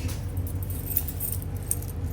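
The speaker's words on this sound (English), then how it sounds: "Here your keys are on the sink." Keys for a 2021 Keystone Fuzion 427 RV jingle and clink together in a continuous light metallic rattle, close by, with a few sharper chinks and a low background hum.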